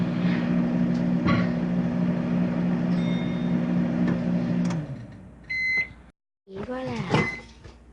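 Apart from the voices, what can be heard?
microwave oven running, heating candle wax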